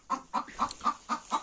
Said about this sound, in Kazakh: Міне тауықтарыма баға беріп кетіңіздер